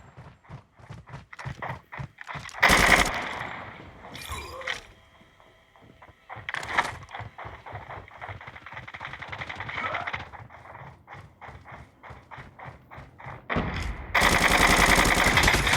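Gunfire from a Call of Duty Mobile match: rapid bursts of shots with loud blasts and a long sustained barrage near the end, under brief game voice and player chatter.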